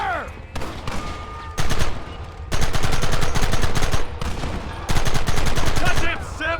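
Rapid bursts of video-game gunfire in Red Dead Redemption, loud and close, with volleys of repeated shots in several long stretches and short gaps between them.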